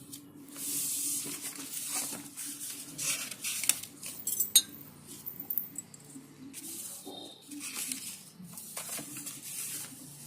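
Green A4 paper is cut for a paper flower craft, making quiet crisp snips and papery rustles in irregular bursts, close up with no talking.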